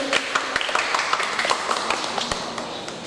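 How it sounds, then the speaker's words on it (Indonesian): An audience at a children's preaching competition during a Ramadan festival at the Ambarawa railway museum claps in steady, sharp, moderately close taps; the sound is fairly thin, like a modest crowd clapping. "Tepuk tangan untuk peserta lomba dai cilik"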